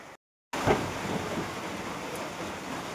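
A hailstorm with heavy rain and thunder beats down on a rooftop as a dense, steady roar of falling water with a low rumble underneath, after a brief silent gap at the start.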